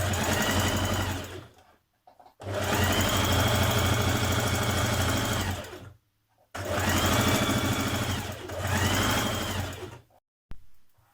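A sewing machine stitches around the pockets of a Simplicity 8384 dress in two long, steady runs of rapid mechanical whirring, each stopping abruptly, with a short burst at the end.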